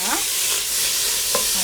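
A large onion frying in a pan gives a loud, steady sizzle with a couple of brief stirring scrapes, and no one speaks.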